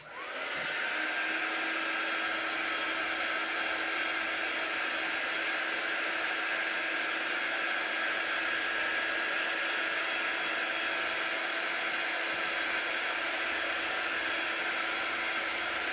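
A handheld dryer blows to dry shimmer paste on a chalk couture craft project, a loud, continuous, steady whir with a constant tone that runs unbroken for the whole stretch, with no voices.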